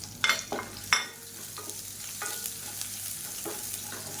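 Crushed garlic, cumin, dried red chillies and curry leaves frying in a pan, a soft continuous sizzle broken by several sharp scraping stirs near the start and a few lighter ones later.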